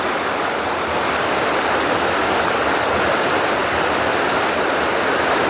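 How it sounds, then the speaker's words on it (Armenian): A river rushes in a steady, loud broadband wash of flowing water, running continuously and close by with no talk over it. "ինչ հավես է այս գետի ձենը"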